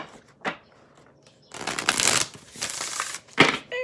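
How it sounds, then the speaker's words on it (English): Cards are shuffled in a few quick riffling bursts, close up and fairly soft, with short pauses and a couple of light taps between. "I cannot shuffle"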